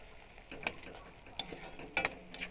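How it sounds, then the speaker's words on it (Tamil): Ginger and garlic sauté in a pan, a quiet sizzle under light scraping and a few sharp spoon clicks against the metal. "அதுக்கப்புறம் இஞ்சி பூண்டு போட்டு பச்சை வாசனை போகிற அளவுக்கு நல்லா வதக்கிக்கோங்க"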